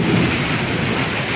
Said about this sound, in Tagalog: Kulog.